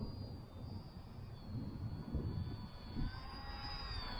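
A ZOHD Drift Dark Breeze RC plane in flight, a faint distant motor whine holding a steady high pitch over low wind rumble, with no voices.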